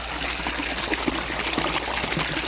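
Water splashes steadily into a saltwater waterfall aquarium tank under high flow, a close, continuous trickling and splattering wash with no voices.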